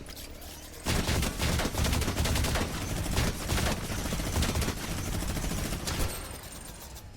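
Minigun in Fortnite firing a long continuous burst of rapid shots, loud and close, running nonstop for several seconds with no pause for reloading.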